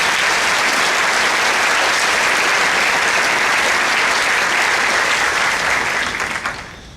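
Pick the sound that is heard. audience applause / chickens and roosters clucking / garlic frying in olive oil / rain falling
audience applause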